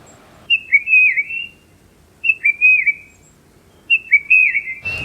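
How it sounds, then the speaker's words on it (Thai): A clear whistled tufted titmouse song repeated three times, each a short run of bright, slurred notes with pauses between, fairly close over a quiet background. "เราชอบเสียงร้องนกตัวนี้มากค่ะ"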